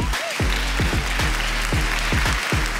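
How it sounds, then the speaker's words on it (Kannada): A studio audience at a mothers' game show claps steadily, the sharp, fairly regular claps filling the short stretch at close range with no talking over them. "ಬರ್ಲಿ ಚಪ್ಪಾಳೆ"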